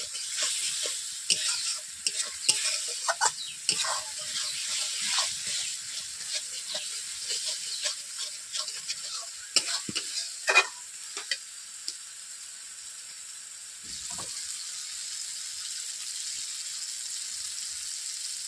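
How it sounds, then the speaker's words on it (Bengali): Spice masala with a little water is stir-fried in a pan for a shrimp malai curry, with rapid, close spoon scrapes and wet spattering over a soft sizzle that grows quieter in the second half. No one speaks. "জল দেওয়ার পর এইভাবে একই সঙ্গে মশলাগুলোকে 3 থেকে 4 মিনিট কষিয়ে নিচ্ছি।"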